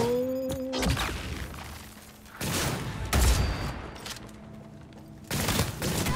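Bursts of gunfire in the video game Cyberpunk 2077: rapid automatic volleys come in several separate clusters, loud and close, with brief pauses between them.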